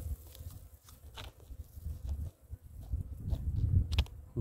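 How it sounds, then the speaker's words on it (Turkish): Bees buzz among the branches of a blossoming tree outdoors, a faint, wavering low drone that swells and fades as insects move close and away, with no talking. "Arılar da gelmiş."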